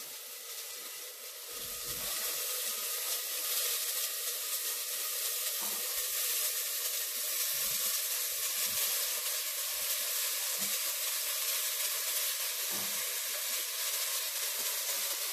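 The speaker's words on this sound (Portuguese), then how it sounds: "Agora, gente, eu vou acrescentar o meu feijão." Beans for feijoada hitting a hot cast iron pot, a loud steady sizzle and hiss with faint scattered clinks, continuing without talk for about fifteen seconds.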